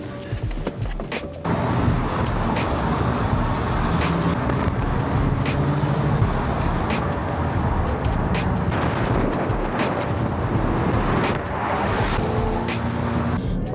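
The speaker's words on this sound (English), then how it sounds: "let's jump in the car and get going." Car driving on a road on the way to London, a steady, loud broadband rumble of engine and road noise that holds throughout, with a few scattered knocks and clicks over it and no talk.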